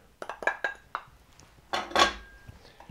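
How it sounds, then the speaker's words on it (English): Cocoa powder and sugar are stirred into butter in a bowl, with a quick run of close metallic clinks and scrapes of a utensil against the dish followed by a couple of louder scraping strokes. "And so I mix that until that cocoa powder gets mixed in there into the butter."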